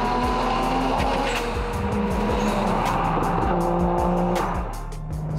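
A Nissan R33 GTR with a large single turbo accelerates hard, its engine roaring loudly and close, with rising tones, gear shifts and a brief tire squeal, then easing off near the end.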